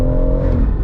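Stage 3 tuned BMW M140i accelerating hard in second gear at full throttle, a loud, close, steady engine roar with no talk.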